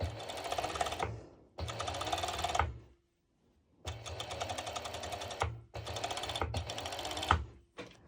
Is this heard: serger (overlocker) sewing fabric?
yes